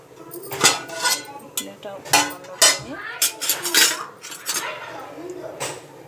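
Hyderabadi dum chicken biryani being mixed in a pot: a metal spoon scrapes and clanks against the pot bottom in uneven bursts, close and fairly loud, with a voice talking at times.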